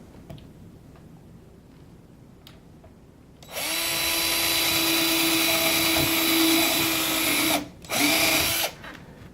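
A power drill bores pilot holes through a kiosk stand skirt, its loud steady whine starting abruptly after a quiet stretch, cutting out briefly once, then resuming before stopping.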